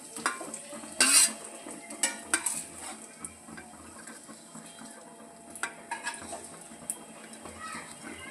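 Paneer fries in oil in a pan with a faint, quiet sizzle, broken by sharp metallic clinks and scrapes of a utensil against the pan.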